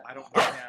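A pet dog gives a single sharp bark, close and loud, after a brief softer whine or vocal sound just before it.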